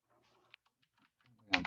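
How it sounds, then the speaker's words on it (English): Keys tapped on a computer keyboard, a few faint scattered clicks followed by a louder burst of quick typing at the end, close up in a quiet room. "I'm trying to type in square root."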